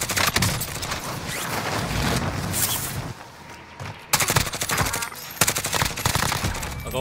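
Dense gunfire rattles in a shooter video game, close loud bursts of rapid shots with a brief lull midway before the firing resumes.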